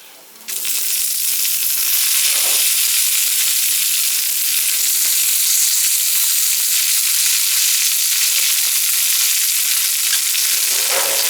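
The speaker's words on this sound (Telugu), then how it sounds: "ఈ కరివేపాకుని ఒక 2-3 నిమిషాల పాటు మంచిగా ఫ్రై చేసుకోవాలి." Washed, shade-dried curry leaves hit a hot pan for curry leaf powder, bursting into a loud, dense sizzle that holds steady close up, with occasional stirring and no voices.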